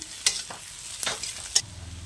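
Onion, green chili and garlic fry in hot oil over panch phoron spices. A soft, continuous sizzle is broken by three quick spatula scrapes, with no talking.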